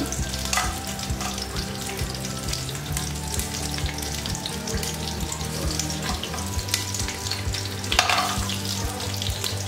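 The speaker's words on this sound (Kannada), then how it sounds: "ಈಗ ಬಿಸಿ ಆಯ್ತು ಒಂದೊಂದೇ ಸ್ಪೈಸಸ್ ಇಡ್ವಿ" Whole spices and curry leaves sizzle steadily in hot oil in a pan, a loud continuous frying crackle with occasional stirring scrapes and a sharper burst near the end, no voices.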